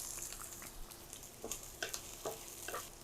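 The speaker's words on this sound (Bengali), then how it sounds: "পেঁয়াজগুলো ভাজা হয়ে গেছে" Chopped onions and native garlic fry in mustard oil in a pan, a continuous soft sizzle close by, broken by several light scraping stirs.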